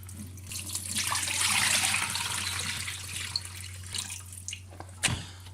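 Water splashing and pouring out into a sink in a steady rush that gradually tapers off, followed by a few drips and a light knock.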